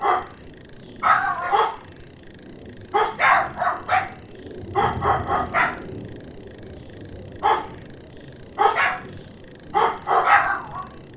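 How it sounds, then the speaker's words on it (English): Dogs barking indoors in a home, several loud, sharp bursts of barks in irregular clusters throughout, with growly yips mixed in and no other sound competing. "My dogs won't stop barking at whatever it is."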